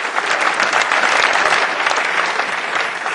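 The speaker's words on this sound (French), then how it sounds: "Mesdames, messieurs, je crois qu'on peut les applaudir." Dense, steady applause fills the whole stretch, loud and close, the studio audience clapping for football players after a broadcast segment, with no talk over it.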